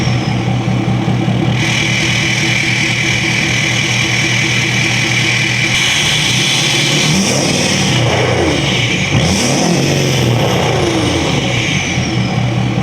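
A 6.7L Powerstroke diesel pickup running the Banana Smoothie tune idles with a loud, steady rumble close up, then revs up and drops back several times in the second half, with no talking.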